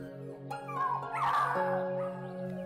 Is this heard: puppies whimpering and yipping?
yes